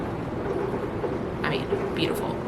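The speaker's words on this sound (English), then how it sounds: "my window's open and it's like raining out" Rain falls outside an open window as a steady, soft, hissing patter heard from indoors. It stays fairly faint and continuous under a low room murmur.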